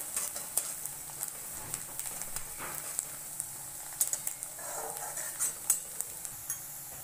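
Onion fries in a pan over a faint, steady sizzle while a spoon scrapes and taps against the metal in scattered stirring strokes.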